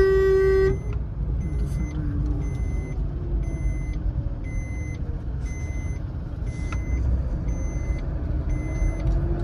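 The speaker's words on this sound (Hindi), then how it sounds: "चलिए रेस कीजिए, गियर बढ़ा लीजिए, सेकंड गियर।" Car driving through a market street while the driver accelerates and shifts into second gear, a steady low engine rumble with periodic electronic beeps and a short horn toot near the start.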